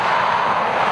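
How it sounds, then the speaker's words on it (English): An Emirates Boeing 777 departs Dublin Airport, its jet engines making a steady, broad roar that holds an even level from start to finish, with no voices over it. "Boeing 777 from Emirates off to Dubai, EK 162"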